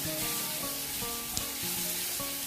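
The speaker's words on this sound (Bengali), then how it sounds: "ভালো করে মিশিয়ে নিচ্ছি" Pointed gourd and poppy seed paste are stirred together in a hot pan, giving a steady sizzle with repeated scraping strokes of a spatula and one sharp knock, close up with no speech.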